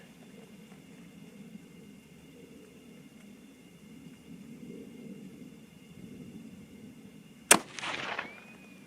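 A single sharp rifle shot at a target during load testing, loud and abrupt near the end after a quiet stretch of low background rumble, followed by a brief ringing decay.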